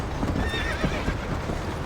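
Horse hooves clip-clop steadily in the Western video game Red Dead Redemption, a brisk close rhythm of hoofbeats with a brief whinny, no talk.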